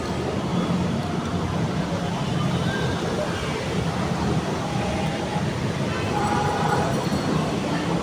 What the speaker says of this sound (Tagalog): Tala mo, daanan ng train na to.